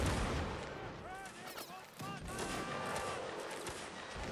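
Cannon and musket fire in a Napoleonic Wars siege battle video game: a dense, continuous barrage of blasts and crackling shots with a sharp impact near the middle, loud and chaotic throughout.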